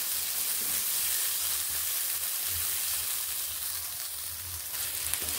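Beans for a mixed vegetable fry frying in a pan after the lid comes off, a steady close sizzle with a soft bubbling hiss that holds evenly throughout, no voices.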